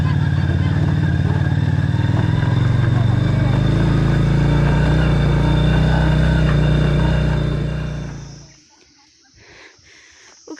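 A scooter-style motorbike hauls uphill on the road toward Maramkot View Point in Nepal, its engine a loud, steady close drone for about eight seconds before it cuts out, leaving quieter surroundings.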